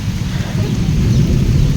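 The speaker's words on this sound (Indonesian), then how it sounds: "apalagi ditambah hujan ngarincik" Steady rain patters outside a lone house deep in a riverside forest, a dense continuous wash of drops with a low rumbling undertone, close and fairly loud throughout.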